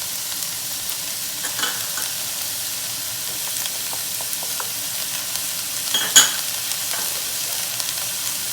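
Coriander, paprika and cumin fry in a pan for shakshuka, a steady soft sizzle with faint scraping stirs and one sharper clink near the end, no talk.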